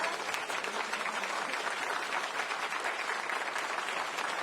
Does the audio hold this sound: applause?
yes